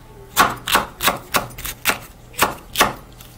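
A knife chops food on a cutting board in a home kitchen. About eight quick, crisp, evenly spaced knocks sound close and loud, with no talking.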